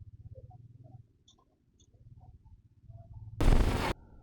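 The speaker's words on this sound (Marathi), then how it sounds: "तेव्हा तेव्हा फटाके फुटतात मस्त पैकी" A low rumbling thrum runs throughout, then one loud sharp firecracker burst lands near the end, briefly ringing out.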